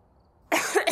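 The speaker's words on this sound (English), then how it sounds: "Seal cough." A single harsh, barking cough bursts out close and loud after a near-silent moment, raspy and seal-like in tone.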